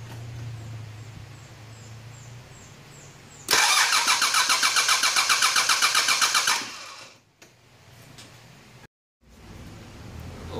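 A rebuilt car engine cranks over on the starter for about three seconds during a compression test, a loud, fast rhythmic chugging that stops abruptly, with quieter mechanical clicks and ambient noise before and after.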